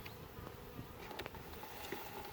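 Honeybees buzz around an opened hive during an inspection, a steady close insect drone with a few louder passes as individual bees fly near.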